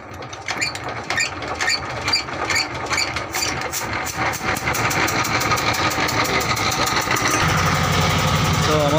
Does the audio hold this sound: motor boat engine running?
yes